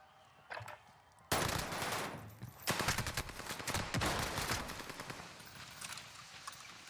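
Automatic gunfire in the Call of Duty Warzone video game: a sudden loud burst that becomes a dense, sustained fusillade of rapid shots, with no talk.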